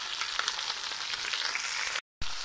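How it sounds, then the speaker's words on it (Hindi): Onions fry in a mix of ghee and oil, making a steady, close hiss of sizzling that cuts out abruptly for a moment near the end. "अब हम इसी घी में तेल में अपने जो प्याज है वो फ्राई कर लेंगे"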